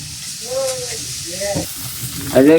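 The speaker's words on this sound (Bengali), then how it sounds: "কপিটা ভাইজা থাক" Cauliflower fries in a pan with a steady close sizzle and occasional stirring, while voices talk over it.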